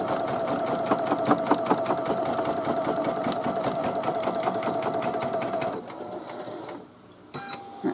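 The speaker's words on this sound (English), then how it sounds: "put it back to the hoop, and then it's just going to stitch it in place" An embroidery machine stitches fabric held in its hoop while making a hooded towel, giving a loud, rapid, steady mechanical chatter that runs for several seconds, then cuts off into quieter clicks and a brief whir.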